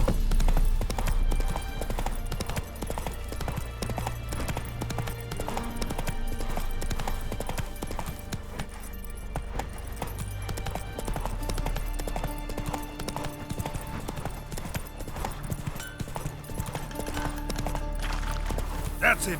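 Roach the horse gallops in The Witcher 3: Wild Hunt, with steady rhythmic hoofbeats running throughout under a dense bed of game music and ambience, while a voice talks over it.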